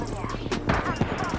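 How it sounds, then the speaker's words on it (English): Gunfire in the battle royale shooter Apex Legends, a dense rattle of shots crackling under game sounds and talking, steady and fairly loud for a brief moment. "Wait, I'm getting shot at."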